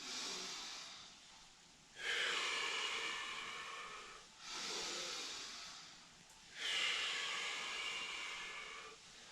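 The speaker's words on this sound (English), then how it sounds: "Inhale deeply through the nose, out through the mouth." Deep yoga breathing during standing Kundalini exercises, drawn in through the nose and pushed out through the mouth: three long, airy, hissing breaths rising and fading in slow cycles, close to the microphone, with no talking.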